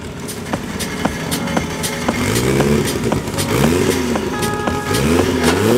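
A diesel VW Polo race car at Midvaal Raceway revs repeatedly, its engine note rising and falling in several surges against steady crowd and track noise, fairly loud and close.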